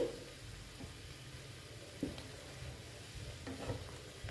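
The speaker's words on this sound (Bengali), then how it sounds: "এটাকে ফুটিয়ে নেবো এইগুলো এখন ফুলে ফেপে উঠবে দেখো একটু ফুটিয়ে নিচ্ছি" Lentil fritters simmering in a pan: a soft, steady bubbling and faint sizzle, with a few light knocks of a utensil against the pan.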